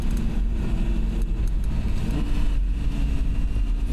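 An Audi R8 V10 Spyder engine pulls hard on a track, a loud, continuous low roar heard from inside the car that shifts pitch midway, with no voices.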